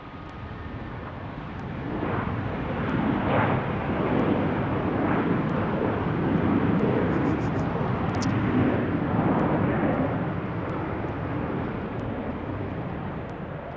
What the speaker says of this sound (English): here comes our A321 from Orlando